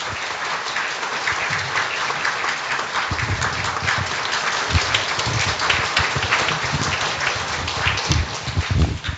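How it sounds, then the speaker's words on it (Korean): A church congregation claps to welcome a preacher at an autumn revival service, broad continuous applause from many people filling the hall at a steady level. "우리 큰 박수로 환영하도록 하겠습니다"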